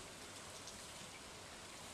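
Steady rainfall in the farming video game Stardew Valley, a soft, even hiss of drops that holds unchanged with no other sounds over it.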